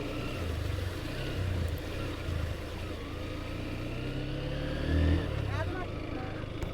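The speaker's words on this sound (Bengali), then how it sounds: "ওয়াও, পানির মধ্যে দিয়ে রাইড করতেছি বাইক" A motorbike rides through water on a road, its engine droning steadily up close with a brief surge of splashing and engine noise near the middle, while people talk over it.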